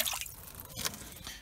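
Glass-fibre rendering fibres are lifted out of a bucket of water, giving a close, wet squelch followed by a few scattered drips falling back, brief and fairly quiet.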